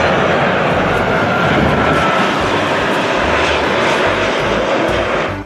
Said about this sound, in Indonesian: lihat teman-teman, ada pesawat terbang